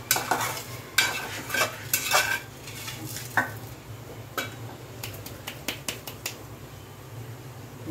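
Sugar mixture stirred in a pan with oil heating nearby, heard as scraping, clinking strokes against metal that come in irregular bursts over a steady low hum, close and moderately loud.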